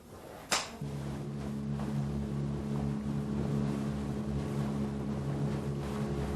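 Motorboat travelling to an island in the Solomon Islands, a steady engine drone with water and wind rush after a brief sharp knock at the start, no talking.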